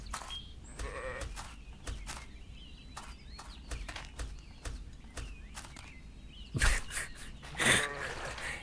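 A sheep in the video game Elsewhere bleats loudly twice near the end, following scattered soft clicks and faint footsteps against quiet background ambience.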